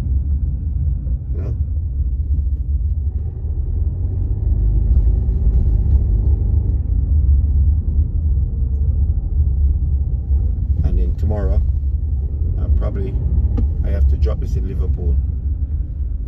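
Inside a recent Citroen C4 on the road between Coventry and Birmingham, a steady low engine and road rumble runs throughout while someone talks over it.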